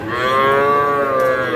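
A young bull calf at a cattle market moos once in a long, loud, close bellow that holds steady for well over a second.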